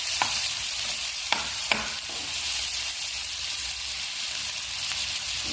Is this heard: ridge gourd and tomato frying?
yes